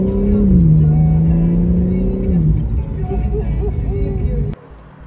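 A BMW M4 Competition xDrive Convertible engine hums and climbs in pitch as it accelerates, then eases off and drops away abruptly near the end.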